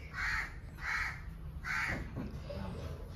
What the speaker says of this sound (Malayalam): കാക്ക ഉണ്ട് കേട്ടോ, നമുക്ക് ഇല്ലാത്ത കിളികളില്ല